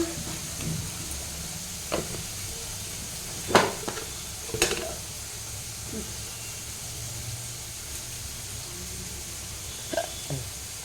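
Paneer frying in a pan with turmeric and salt: a soft continuous sizzle and hiss, broken by a few sharp clatters and scrapes of stirring, with faint voices in the background.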